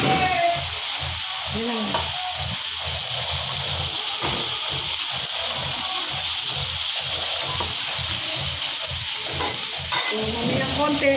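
Mushrooms fry with onion and garlic in a pan, giving a steady bright sizzle and hiss with intermittent stirring scrapes. A voice speaks briefly over it.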